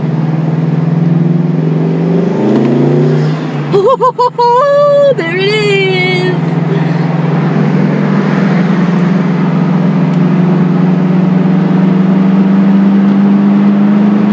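A Subaru WRX STI fitted with a Cobb intake, engine droning loudly and steadily close by, with a short burst of rising and falling revs early on before settling into a constant hum.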